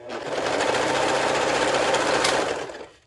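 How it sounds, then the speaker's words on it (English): A serger stitching a heart plush pillow runs in one continuous burst of about two and a half seconds, a fast, dense mechanical whir that starts up, holds steady and winds down. "it works just fine with the serger"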